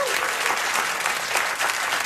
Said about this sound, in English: Listen to the applause.